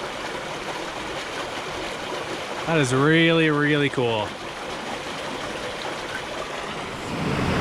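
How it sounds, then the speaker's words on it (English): Frigid spring water gushes out of rock beneath a waterfall in a steady, close rush that runs through the whole stretch, while a person speaks briefly over it in the middle. "Look at this spring gushing out of the rock here."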